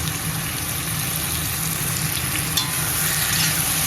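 Goat meat frying with potatoes in a pan, a steady close sizzle with occasional stirring scrapes and a low hum underneath, continuous throughout.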